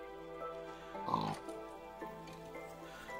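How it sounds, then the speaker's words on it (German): A pig in the Minecraft video game oinks once briefly, faint and mid-distance over a quiet game soundtrack and ambient hum. "Da ist ein Schweinchen"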